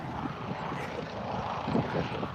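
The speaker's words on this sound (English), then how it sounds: "That's my helicopter coming to pick me up" A helicopter passes overhead as a steady, fairly loud rotor and engine drone that swells slightly toward the end, with no voices over it.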